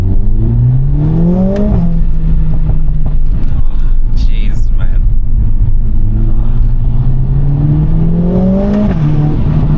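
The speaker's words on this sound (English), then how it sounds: "The induction noise that you get out of it with the window roll down is just insane." A Mercedes-AMG A45 S engine revs hard twice, rising in pitch with a deep induction roar heard through an open window, while a man exclaims briefly in between.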